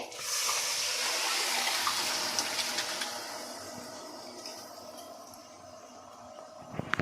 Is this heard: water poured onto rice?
yes